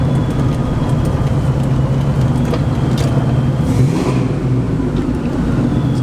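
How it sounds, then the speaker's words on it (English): A supercharged 700hp 2-valve Ford Mustang with a fully built motor runs steadily on the road, a loud continuous engine drone with a low rumble, heard from inside the car without talk. "This car sounds good."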